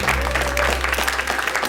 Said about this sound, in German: Begrüßen Sie ihn jetzt mit einem herzlichen Applaus.